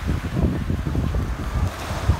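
Ocean waves wash onto a beach at sunset, a steady rumbling surf with repeated swells and gusting wind buffeting the microphone, loud and close throughout.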